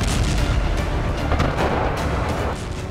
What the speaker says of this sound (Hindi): धमाके के साथ धधकता हुआ आग का गोला